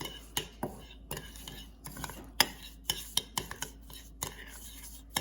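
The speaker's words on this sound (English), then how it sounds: "I'm going to mix this together." A spoon stirs coffee grounds and olive oil together into an exfoliating face mask, giving a steady run of close, sharp clinks and scrapes against the dish with no talking.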